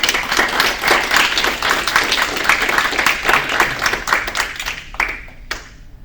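Onlookers at a kenpo black belt promotion break into dense, lively clapping that holds steady for several seconds, then tapers off with a few last claps.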